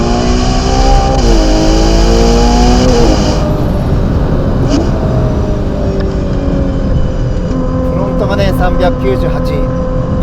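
Ferrari Purosangue V12 on a winding road, engine tone stepping down through quick downshifts while braking, loud and close from inside the cabin, with a voice talking over it.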